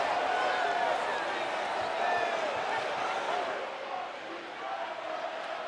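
A loud crowd roars at Pittsburgh's stadium during the 2021 Clemson at Pittsburgh college football game. The noise is a sustained, dense wall of cheering that eases slightly toward the end.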